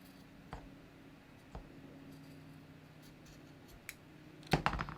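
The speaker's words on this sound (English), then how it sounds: "I'm just going to follow my scissors along this 1/4 inch guide that I marked." Scissors cut through a denim jeans hem along a marked guide: sparse, sharp snips spaced about a second apart, close and fairly quiet, ending in a quick cluster of louder cuts.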